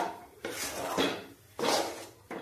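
Spoon working a biscuit pera mixture in a pan, close scraping strokes that swell and fade in a slow, repeated rhythm.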